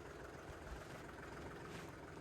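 A farm tractor engine idles while warming up after a cold start, a faint, steady low rumble that holds constant throughout with no talking.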